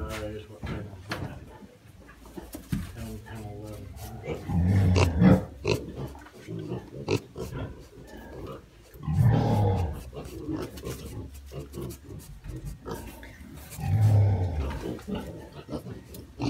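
Piglets grunting and giving short squeals in a pen, several low snuffling bursts spread through the scene while people talk over them nearby.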